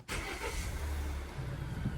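A car engine cranks and catches during an oil change, then settles into a low, steady idle nearby, fairly quiet, with no talking.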